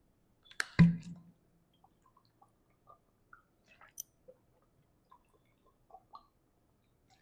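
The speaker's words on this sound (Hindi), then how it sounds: "थोड़ा पानी पी लेता हूं मैं।" A person takes a few sips of water during a lecture, giving a short cluster of gulping and swallowing sounds near the start, followed by faint scattered clicks and small mouth noises in a quiet room.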